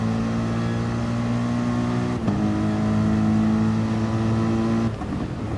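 Race car engine in a GT sim racing game, a loud steady onboard drone holding pitch with a brief shift-like break midway, then a dip as the throttle eases near the end.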